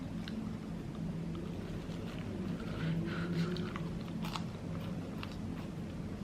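Someone bites and chews crunchy fried banana cue close to the microphone, with soft crackly crunches over a steady background hum.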